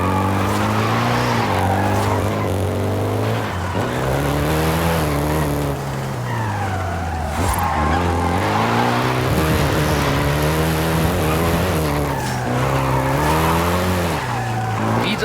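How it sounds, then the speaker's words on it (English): Volkswagen Golf GTI in a racing video game, its engine droning loudly and continuously while tires squeal and skid through turns, the motor pitch rising and falling with each shift. "including the Golf GTI you're driving right now"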